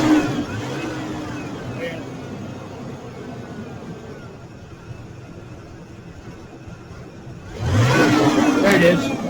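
An engine revs when throttle is applied during an EGR diagnosis, a steady idle-like hum building to a louder rising surge near the end, with a voice talking over much of it.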